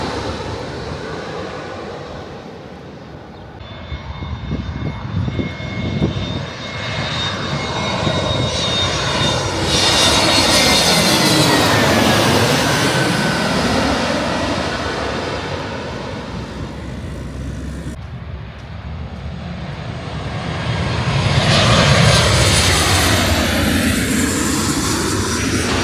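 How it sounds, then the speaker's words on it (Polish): Jet airliners passing over a natural park, a long roaring swell that builds, fades and builds again as aircraft fly overhead, loud and sweeping with no voices. "I latają samoloty"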